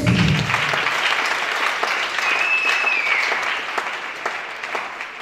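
A church congregation applauds at a praise service, dense steady clapping filling the room and slowly tapering toward the end, with a thin whistle or sustained tone rising briefly in the middle.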